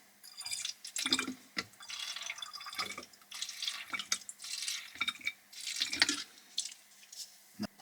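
Flow improver, about 50 milliliters, pours into a spray paint mix in irregular close trickles and drips, with quiet pauses between splashy bursts.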